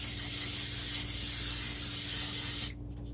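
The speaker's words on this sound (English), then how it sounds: "the first thing I'm gonna use is my trusty coconut oil cooking spray" Coconut oil cooking spray hissing into a pot in one steady, close burst lasting a couple of seconds, then cutting off abruptly to a quiet kitchen.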